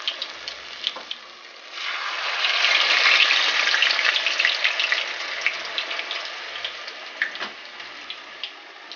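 Cornbread patties frying in a pan over medium-high heat give a steady, close sizzle that swells and fades, flecked with small pops and crackles.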